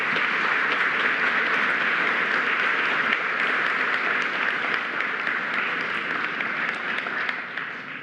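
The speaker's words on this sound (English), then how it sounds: "Please give them a round of applause" Sustained audience applause fills a national awards ceremony hall in Trinidad and Tobago, a dense, steady wash of many hands clapping for the full length before easing slightly at the very end.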